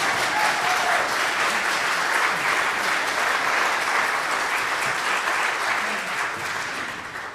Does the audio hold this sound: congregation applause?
yes